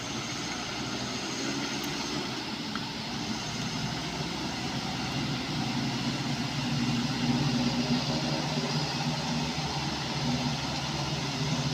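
A Colt Diesel truck engine revs hard in a steady, continuous roar while the truck strains up a difficult track, the sound close and loud with no talk over it.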